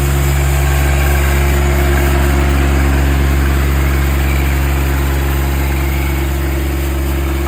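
A John Deere compact tractor engine drives a hydraulic rotary broom, a loud, close, steady drone with a strong low hum and constant tonal whine, unchanging throughout.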